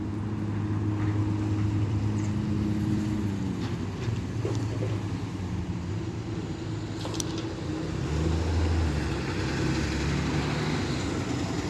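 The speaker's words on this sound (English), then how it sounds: "There's a bunch of weird box trucks going by." Box trucks drive by outdoors, a steady loud engine rumble and road roar that rises and falls as vehicles pass, filling the whole stretch.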